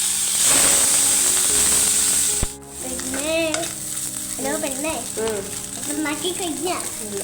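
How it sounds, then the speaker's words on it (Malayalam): Sliced sausage shallow-fries in hot oil in a pan, giving a loud, steady sizzle and hiss for a couple of seconds. A sharp knock follows, then a softer crackle continues beneath a child's chatter. "സോസേജ് നമ്മളൊന്ന് ഷാലോ ഫ്രൈ ചെയ്തിട്ട് എടുത്ത് മാറ്റി വെച്ചു കേട്ടോ"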